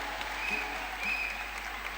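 A church congregation at a New Year's night of prayer applauds and acclaims, a steady, fairly faint crowd clapping with a few higher cheering tones woven through it.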